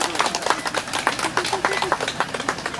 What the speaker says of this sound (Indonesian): Sekali lagi kita berikan tepuk tangan yang paling meriah.